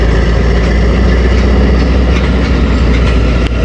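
The Khyber Mail train pulls away at Attock City Junction as the driver notches up, producing a loud, constant engine roar and rolling rumble with faint rhythmic clatter, close by and steady throughout.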